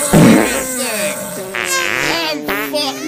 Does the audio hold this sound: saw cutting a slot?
no